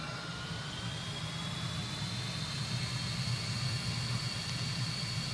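An L-39 Albatros jet engine in Microsoft Flight Simulator 2020 drones steadily as throttle comes up, a low rumble under a faint rising whine, even and moderately quiet throughout without talk.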